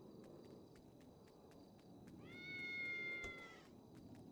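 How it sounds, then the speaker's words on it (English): Ghost, a deaf cat, lets out one drawn-out meow of about a second, faint and somewhat distant against a steady room hum with light ticking. "I heard a cat."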